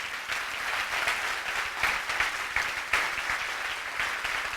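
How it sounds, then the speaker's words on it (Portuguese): A church congregation applauding during a worship service, a moderately distant, fairly soft burst of clapping that swells in small surges without speech. "Aplauda o Senhor se você concorda"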